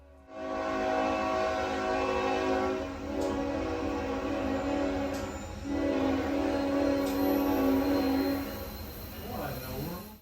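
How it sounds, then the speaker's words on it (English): A heavy northbound coal train on the former Norfolk and Western line rumbles past close by a railroad tower, its horn blaring in long sustained blasts over the grinding roar of the wheels. "Next up was a northbound coal train on the former Norfolk and Western."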